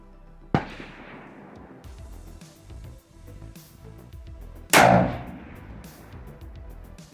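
A long-range rifle fired with a Horus HoVR system cracks sharply, then a second, louder shot booms and echoes away; both are outdoors and close, separated by a few quiet seconds.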